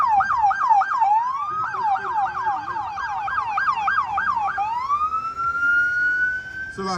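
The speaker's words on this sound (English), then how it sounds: "Every time we come out here, man, these sirens are crazy." Police sirens wail outside, a rapid yelp cycling over and over before switching to a long rising wail, fairly loud as the vehicles pass.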